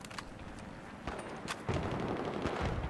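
Gunfire in the Battlefield 3 video game on the rubble-strewn Aftermath map, scattered sharp shots that swell into denser crackling bursts partway through, moderately loud.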